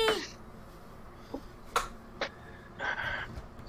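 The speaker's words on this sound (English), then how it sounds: "Kitty!" A cat meows briefly and faintly indoors, with a few soft clicks and taps spaced around it in a quiet room.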